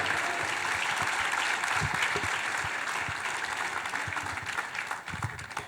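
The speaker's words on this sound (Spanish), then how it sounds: "Denle un aplauso a Él" Church congregation applauding at a service on the seven last words of Jesus, a dense, steady wash of many hands clapping throughout, fairly distant and even, easing slightly near the end.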